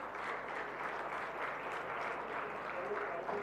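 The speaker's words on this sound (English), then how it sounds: "Let's give the 3 of them another round of applause" An audience at an awards event gives three panelists another round of applause, steady sustained clapping from a large crowd heard at a distance, with voices faintly mixed in.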